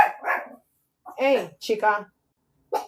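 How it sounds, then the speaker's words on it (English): A dog barks indoors in Mexico with several sharp, close barks in short bursts, while a voice speaks in between. "That's my dog."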